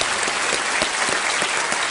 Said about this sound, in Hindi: एक बार जोरदार तालियां हो जाए अभिजीत जी के लिए।